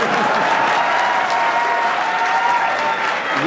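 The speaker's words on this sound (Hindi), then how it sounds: "ताली बजाइए।" Steady applause from an audience at a Hindi poetry recital, dense clapping that fills the whole stretch evenly at a fairly loud level, with no voices standing out above it.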